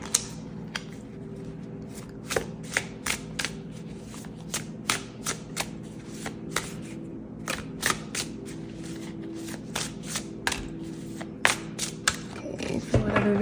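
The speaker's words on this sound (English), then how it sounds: "this deck is so stiff and hard to shuffle and loud" A stiff tarot card deck being shuffled in repeated sharp riffles and snaps, loud and close, with a steady background hum.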